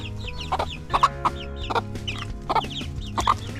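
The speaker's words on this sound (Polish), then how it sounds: "Pokaż mi tylko kurczaki." Six chickens cluck close by in short repeated bursts over a steady low background hum.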